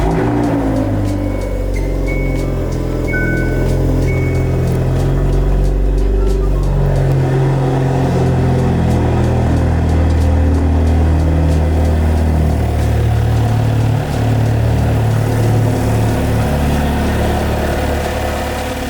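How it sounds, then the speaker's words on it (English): A car engine idles loudly and steadily nearby after an oil catch can install, a continuous low rumble with slight swells in revs across the span. "Let's throw the engine cover back on and start it up."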